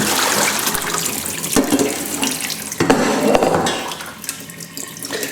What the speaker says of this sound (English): rinse it under cold water and let it drain off thoroughly